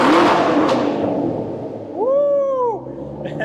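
A supercharged 5.4-litre Shelby GT500 engine blips once up and back down in a brief rev, a tonal rise-and-fall swelling out of a steady rumble, fairly close.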